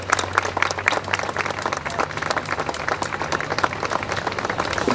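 Applause from an audience at a tribute ceremony for Argentina's National Dance Day: sustained, dense clapping fills the room at steady volume, with a low hum running beneath it.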